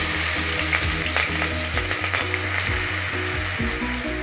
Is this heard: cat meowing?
no